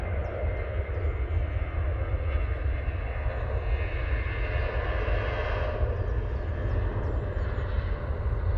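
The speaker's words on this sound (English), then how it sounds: "That's the Ryanair going off to Derry using 737-800." A Ryanair Boeing 737-800 departs Manchester Airport on a low-visibility morning, a steady, heavy jet engine rumble heard from a distance without any talk.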